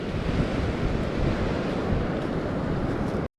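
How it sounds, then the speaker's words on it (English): Ocean surf roars in a continuous broad wash on the north side of a shallow-water shore, mixed with wind buffeting the microphone, constant and fairly loud until an abrupt cutoff at the end. "on the north side the crashing waves are a lot closer"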